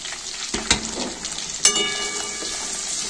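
Fish pieces with onion, capsicum and slit green chillies frying in a pan for chilli fish, giving a steady close sizzle with a couple of sharp clatters of stirring.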